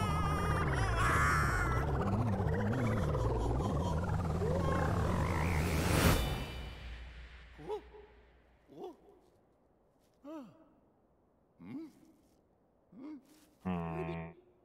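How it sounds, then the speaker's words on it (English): A frog captured in the video game Super Mario Odyssey gives a series of short, croaking calls, about seven separate bursts spaced after a dense stretch of game music and effects, with a player's voice heard briefly. "Yep, I'm a frog."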